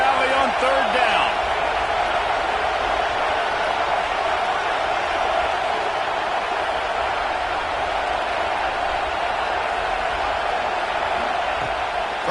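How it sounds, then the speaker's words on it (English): Dense, steady crowd roar from a big stadium in Happy Valley during a third-down play in College Football 26, a broad continuous wash of noise that holds loud throughout with no distinct breaks. "Here comes the noise from this big crowd in Happy Valley on 3rd down"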